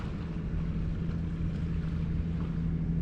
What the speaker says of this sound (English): There it is folks, the Jura ferry.